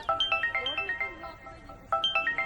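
A mobile phone ringtone, a bright repeating electronic melody heard clearly and fairly close, playing two phrases with a short pause between them and no talk over it.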